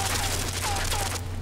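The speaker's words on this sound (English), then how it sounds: "It's a machine gun! Keep moving because that's still in its sights." A machine gun firing in Limbo: a continuous rapid rattle of closely spaced shots over a steady low hum. It stops abruptly just before the end.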